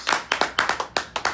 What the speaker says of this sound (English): Clap for Comrade.